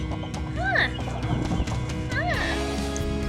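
An angry broody Bantam Cochin hen clucks and growls in rising, warbling calls close by, with low background noise beneath.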